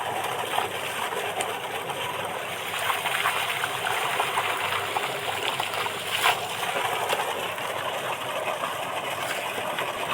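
Water gushes continuously from a village tube well during an outdoor bath, a steady loud splashing rush with no pauses, close at hand.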